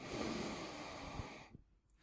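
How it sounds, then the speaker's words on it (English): A person draws one deep, slow breath in during a guided tapping relaxation exercise, an airy sustained inhale close to the microphone that ends abruptly into near silence. "Take a deep breath in again."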